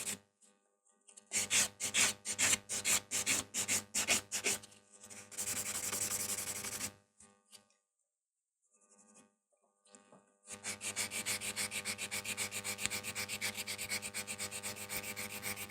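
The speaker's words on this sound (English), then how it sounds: "I'm just going to smooth this nail out" A gel nail being filed and smoothed, first as a run of quick rhythmic close-up rubbing strokes, then a steady buffing grind, a short pause, and a long continuous loud smoothing burst.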